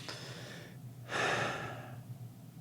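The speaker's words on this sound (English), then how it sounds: "Take a deep breath." A single deep breath, close and clear: a short inhale, a pause, then a longer, fuller audible exhale that trails off into quiet.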